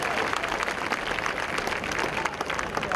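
An audience at a school gathering bursts into sustained applause, dense overlapping clapping that stays fairly loud and even for the whole few seconds.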